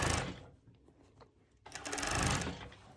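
Cover stitch sewing machine stitching through many fabric layers and elastic on a sporty racerback top: a close, fast mechanical whirr runs briefly, pauses, then starts again more loudly for the final second and a half.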